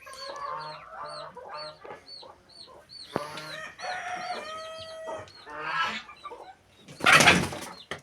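Farmyard fowl call close by: chickens cluck and squawk in short bursts, with goose-like honks mixed in and a harsh burst of noise near the end.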